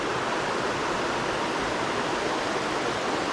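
A waterfall on a mountain creek sends up a steady, dense rush of falling water, loud and unbroken, with no voices.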